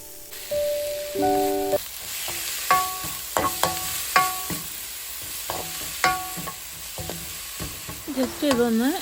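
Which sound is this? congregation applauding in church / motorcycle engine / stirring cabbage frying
stirring cabbage frying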